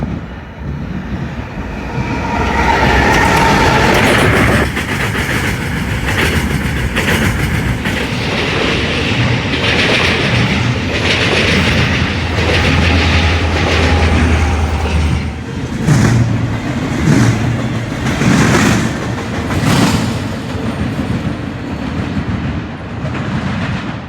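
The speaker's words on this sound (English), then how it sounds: "Then we were surprised by the CPKC Transfer Intermodal with two Southern Bells, a Gevo in the lead and a Thundercab Ace as the DPU." A CPKC transfer intermodal freight train rolls past with two Southern Belle units, a GEVO locomotive leading and a Thundercab ACe as distributed power, its wheels clattering loudly and steadily over rail joints close by for the whole stretch.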